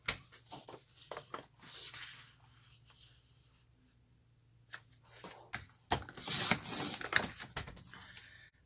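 A paper trimmer slicing cardstock for a card project: a few quiet scraping, sliding cuts with soft rustles and taps of paper being handled, close by and otherwise silent.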